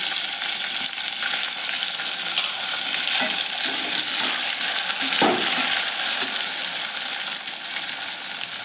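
Tomatoes and onions frying in a pan with fenugreek leaves for a prawn curry: a loud, close, continuous hiss and sizzle with faint stirring scrapes, no voices.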